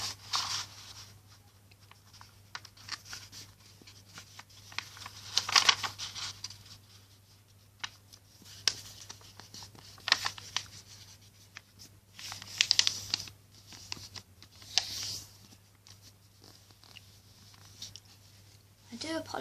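A4 paper is folded in half for an origami fox, with faint crinkles, rustles and scrapes in scattered bursts under a low steady hum in a quiet bedroom.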